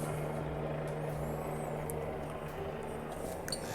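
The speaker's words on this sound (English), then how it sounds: "Hello, helicopter." A medical life flight helicopter passes overhead near a hospital, a steady loud rumble and whine that fills the whole moment without fading, with faint chirps on top and no talking.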